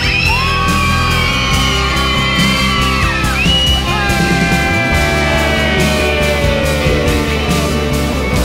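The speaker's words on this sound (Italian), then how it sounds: "voglio sentire i bambini, un urlo da solo dai bambini" A big crowd of children at an outdoor street gathering in Massa shouts and whoops together, a loud, continuous wall of high voices close by that swells and wavers throughout.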